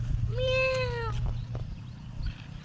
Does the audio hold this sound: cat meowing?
yes